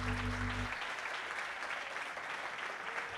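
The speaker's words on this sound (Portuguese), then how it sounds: "Levante a mão para aplaudir." Church congregation applauding during a prophetic Wednesday service, a dense, even roar of clapping from many hands that continues steadily, with a low held tone fading out just as it begins.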